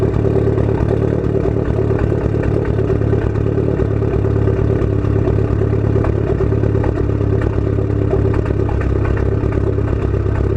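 Close and loud, the ETS-exhausted Mitsubishi Evo X idles with a constant deep rumble and a light mechanical clatter, holding steady throughout with no voices.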